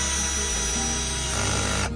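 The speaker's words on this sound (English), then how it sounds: "about to use the drill to get these in faster" A power drill drives fasteners while a 2007-2013 Chevrolet Silverado door handle is replaced, a loud continuous whine that shifts pitch partway through and cuts off at the end.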